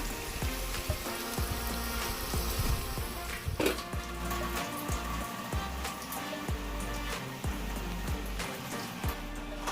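Steady crackling sizzle of frying in a pan while cooking mutton biryani, with scattered pops and clicks close by and no talking.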